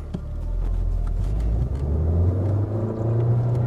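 Alfa Romeo MiTo engine revving in first gear in dynamic mode, a steady mid-pitched drone that climbs in pitch as revs rise, close and continuous with no talk.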